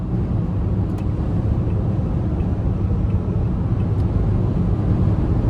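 A 2017 Toyota Yaris 5-door LE with a 1.5 engine cruises on the interstate, producing a steady, loud low-pitched road and engine rumble heard from inside the car, with a couple of faint ticks over it and no talking.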